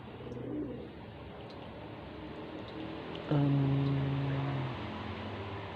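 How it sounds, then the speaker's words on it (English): Two pigeons cooing near each other, a low, throaty coo rolling out in one strong burst midway through over steady outdoor background noise. "Two little pigeons. Are you two a mate?"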